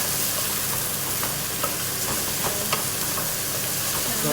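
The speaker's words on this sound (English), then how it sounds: "So now it's the fresh onions and the caramelized onions just cooking away beautifully" Fresh and caramelized onions cook in oil in a pot for a home-style lamb Sindhi biryani, making a continuous bright sizzle with scattered crackles and a few soft stirring knocks.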